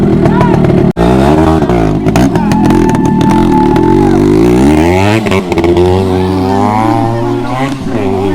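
Stock Yamaha RXZ two-stroke motorcycle at an RX bike competition, revving hard with rising and falling engine pitch before riding off, loud and close, with voices briefly present.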